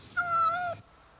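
A white cat gives a single clear meow, close and moderately loud, lasting just over half a second before falling quiet.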